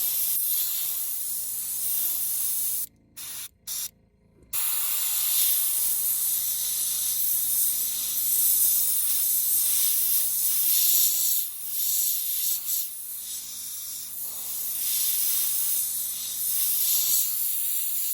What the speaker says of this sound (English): I'm actually spraying the stencil and just allowing the overspray to hit the lure